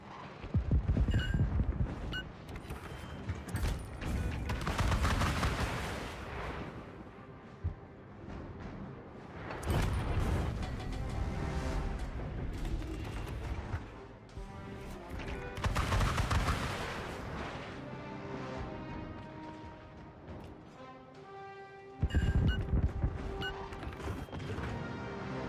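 Missile strike in a video game with explosions and heavy gunfire, bringing dense loud bursts of blasts and rattling shots in several waves that come and go, with mechanical clatter between them.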